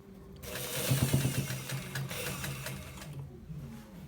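A sewing machine runs steadily while stitching a designer shirt with buttons, its close, even mechanical whir starting after a brief pause, holding for about three seconds and then stopping.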